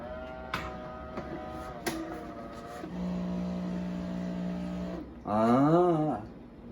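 A coffee grinder motor whirs and spins freely with a steady hum, grinding nothing with a plugged tube and too-fine coffee, broken by short clicks and a rising, wavering mechanical whine near the end.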